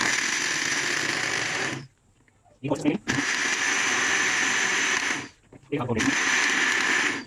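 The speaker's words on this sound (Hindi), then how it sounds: "ये हमारा जूस ब्लेंड हो गया।" Countertop blender whirring at high speed through fresh plum juice with sugar and ice, two long loud bursts broken by short pauses with a brief voice between them.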